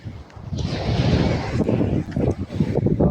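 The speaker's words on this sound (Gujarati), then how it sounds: "કેવો પણ ઠંડો પવન મસ્ત હશે અહીં" Cold wind blows hard across a seashore in the rain, a close, gusting rush buffeting the microphone with steady strength and a few dips, and no voices over it.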